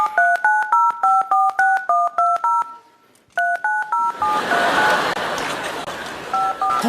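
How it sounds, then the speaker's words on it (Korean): A telephone number is dialed on a keypad, a quick run of evenly spaced touch-tone beeps, a brief pause, then a second run that gives way to a loud noisy wash with a few fainter tones. "김 변호사님한테 전화하면 되는 거지?"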